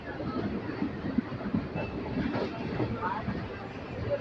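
A train passes on an Indian railway line near a stopped Nanded–Visakhapatnam weekly special, a steady rumbling roar with faint rail clatter, heard from inside the carriage.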